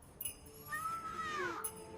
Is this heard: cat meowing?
yes